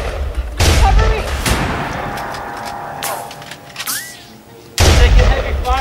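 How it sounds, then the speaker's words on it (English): Heavy gunfire in an action scene: loud, close bursts of shots at the start and end with sporadic shots and booms between, and faint voices in the mix. "Taking heavy fire."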